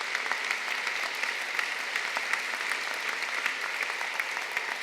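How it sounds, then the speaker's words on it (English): Sustained applause from an audience, a dense even patter of many hands clapping throughout, with no speech on top. "First, a warm round of applause for these first insights of the Dalai Lama."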